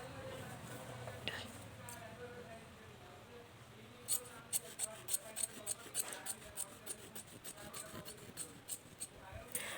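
Scissors cut trouser fabric into two pieces, giving a close, quiet run of crisp rhythmic snips through the second half over a soft background.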